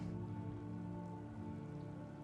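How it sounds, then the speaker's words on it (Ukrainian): Steady rain pours over Minrathous in Dragon Age: The Veilguard, a dense, even wash of falling water with a low droning hum beneath, continuous and moderately loud with no voices. "в Мінратосі прям завжди буде дощити"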